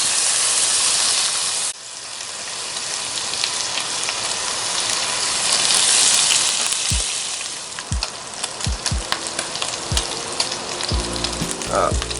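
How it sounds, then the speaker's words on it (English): Bacon renders in a cast iron Dutch oven outdoors, giving a steady, close crackling sizzle with a dense hiss, broken by a few sharp knocks and pops from utensils near the end. "Bacon's starting to render."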